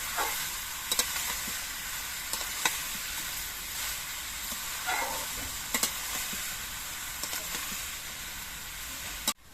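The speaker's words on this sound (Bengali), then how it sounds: "এবার খুন্তি দিয়ে নেড়ে চেড়ে তেলের সঙ্গে লাউগুলো মিশিয়ে দিতে হবে" Bottle gourd pieces stirred in hot oil with a metal spatula, a soft continuous sizzle and hiss with occasional light scrapes and taps, ending in a sharp clack.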